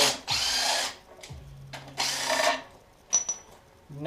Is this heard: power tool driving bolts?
yes